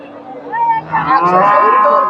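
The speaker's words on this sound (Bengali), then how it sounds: "এই যে সুন্দর একটা গাভী, গাভীটা বড় আছে" A big pregnant dairy cow still giving about fifteen litres of milk lows at a cattle market in Bogura, one loud, close moo rising and holding to the end.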